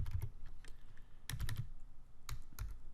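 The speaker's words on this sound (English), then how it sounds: "So I'm going to type week number." Typing on a computer keyboard in a spreadsheet date table, scattered quiet key clicks arriving in small clusters with pauses between them, close and soft with no talking.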